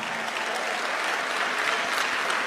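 A church congregation claps steadily in sustained applause, a dense, even wash of many hands that stays at a constant level from start to finish.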